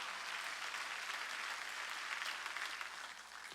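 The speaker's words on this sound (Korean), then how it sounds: "두 손이여 같이 상을 받는다고 믿는 사람만 박수라는 거예요." A church congregation at a Sunday worship service in Incheon applauds together, a dense, steady wash of many hands clapping at once that holds strong for several seconds and eases slightly toward the end.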